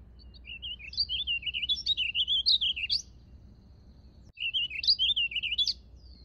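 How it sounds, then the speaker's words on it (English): Warbling vireo song: two bursts of rapid, rambling, high warbled phrases from a single bird, clear and moderately close over faint low background hum, with a short pause between them. "Keep an eye out for the warbling vireo and a close ear to hear their songs."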